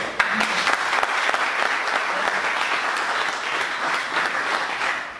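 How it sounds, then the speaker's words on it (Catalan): A ceremony audience at a Spanish film directors' honorary event bursts into steady, dense applause, loud and close, which carries through without a break from start to end. "Un aplaudiment."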